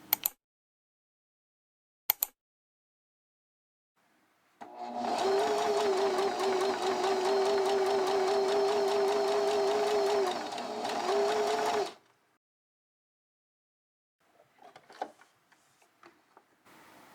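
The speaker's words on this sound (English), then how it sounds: "top stitched with my regular sewing machine" A regular home sewing machine top stitching leggings runs in one steady, even whir for about seven seconds, close and alone. A couple of sharp taps come before it and faint handling sounds follow.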